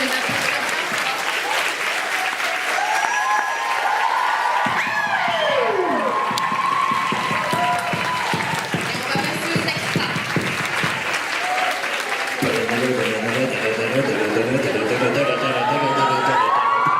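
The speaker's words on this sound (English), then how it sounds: "Je vous demande de les applaudir." An audience at a Wolfies in Paris 2017 fan panel applauds the guests, with loud sustained clapping, cheers and whoops, plus shouting voices rising over the crowd.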